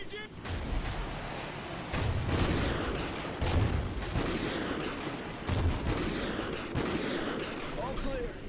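Sniper gunfire from a remote sniper in the video game Call of Duty Ghosts booms out in heavy, evenly spaced shots, each a loud, close blast with a rumbling tail, over battle noise and faint voices.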